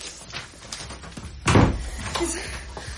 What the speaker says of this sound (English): Lock the door.